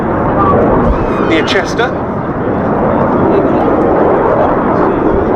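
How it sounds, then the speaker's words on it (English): A restored BAC Strikemaster jet taxis out at the Duxford Air Festival, a loud broad continuous roar that fills the whole stretch, while an announcer's voice comes through briefly over it. "The aircraft I was just talking about is the one that's now going out to our left."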